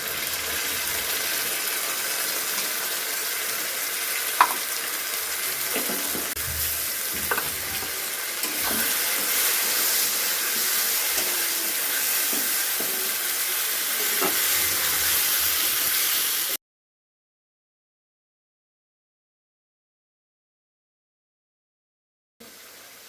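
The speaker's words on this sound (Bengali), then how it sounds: "এবার আমি পেস্ট করা মশলাটা দিয়ে দিচ্ছি।" Spice paste for a Bengali rui fish curry hits a hot pan and sizzles and fries steadily for about sixteen seconds, with occasional stirring clinks, then cuts to silence before a brief return.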